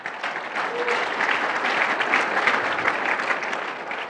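Conference keynote audience breaking into applause, a steady, full-room clapping that holds at an even level throughout without pause.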